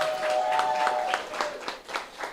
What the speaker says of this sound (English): Round of applause for Beauty and Brains.